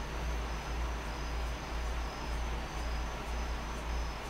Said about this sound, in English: I'm sure you guys can hear my friends, the crickets outside there.